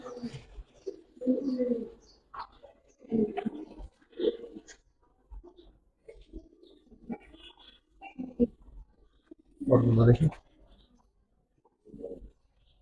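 Large racing and high-flyer pigeons cooing in a series of soft, throaty bursts, the loudest near the ten-second mark, separated by short quiet gaps.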